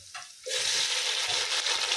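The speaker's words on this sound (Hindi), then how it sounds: "ऑयल गर्म हो चुका है, अदरक लहसुन का पेस्ट डाल देते हैं।" Ginger-garlic paste hitting hot oil, a sudden loud sizzle that starts after a short quiet moment and then holds as a steady, close frying hiss.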